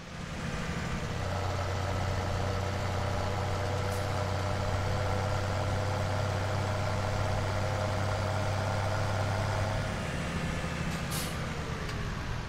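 A big tractor idles in a farming video game with a steady low engine drone and a deep constant hum, followed by a brief airy hiss near the end.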